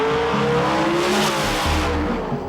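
A street car accelerates hard at a drag race, its engine roaring loud and close with rising revs and a rough, continuous note throughout.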